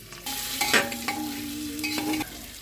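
Chopped ginger and garlic frying in a pan, a soft sizzle with light scraping and a faint ringing tone, heard close and quiet, with no talking.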